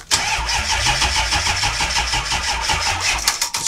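A 2006 Ford Econoline E-450 bus engine cranks steadily with a rapid, repetitive starter churn, loud and close, running continuously without catching.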